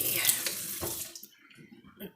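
Water runs from a kitchen sink tap while something is rinsed under it, a close hissing stream that cuts off partway, leaving faint handling noises and a little talk.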